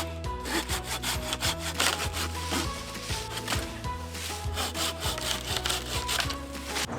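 A moringa tree is sawn down by hand, the blade rasping through the wood in a steady, loud back-and-forth rhythm that continues without pause, with no talking.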